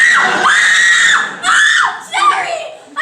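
Several voices scream and shriek in long, wavering, high-pitched cries in a few bursts, loud and close.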